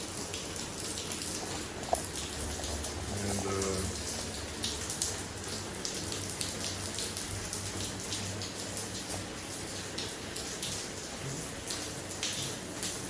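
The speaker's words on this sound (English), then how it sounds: "So it's raining." Steady rain falls continuously, a dense patter of drops hitting surfaces nearby, with occasional louder splashes standing out.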